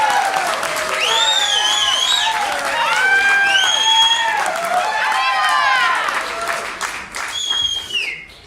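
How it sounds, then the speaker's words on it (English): Wedding reception guests cheer and applaud the bride and groom, a loud sustained crowd roar with clapping and high whistles that fades near the end. "Let's give them a big cheer"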